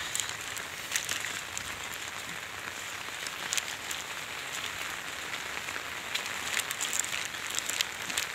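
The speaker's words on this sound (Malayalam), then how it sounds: "നല്ല മഴയുണ്ട്, അതേപോലെ ചെളിയുണ്ട് കേട്ടോ" Heavy rain falling steadily outdoors on a muddy, grassy path, a dense continuous hiss with scattered louder drops, moderately close and with no talking.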